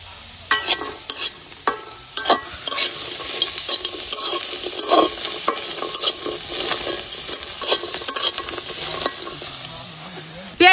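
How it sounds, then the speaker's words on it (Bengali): Onion and garlic frying together in a pan for a mashed side dish, with a steady sizzle broken by repeated scraping stirs of a spatula against the pan. "এখন আমি দুইটা ভর্তার পেঁয়াজ রসুন একসাথে ভাজা নিয়াম।"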